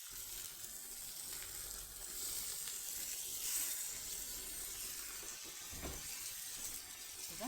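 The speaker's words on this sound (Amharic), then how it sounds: "እዚህ ጋር የፈላ ውሃ አለኝ። ትንሽ ውሃ እናደርግበታለን።" Boiling water poured into a frying pan while fish and tomatoes cook, a steady hiss and sizzle with a splashing water sound running through the whole stretch at moderate loudness.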